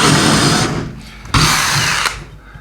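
A power drill whirs loudly in two bursts, with a brief pause and sharp click between, its pitch straining under excessive pressure, close to the listener.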